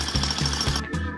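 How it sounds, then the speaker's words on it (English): A jackhammer breaks up a concrete slab at close range, giving a loud, steady pounding with rapid regular hits. No one talks over it. "how many men does it take to plug in a second jackhammer?"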